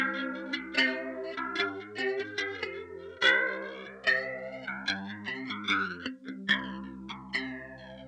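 Melodic electric bass notes through an early-1980s Deluxe Electric Mistress flanger pedal, with a swirling, sweeping modulation effect, played alone in a slow, flowing line.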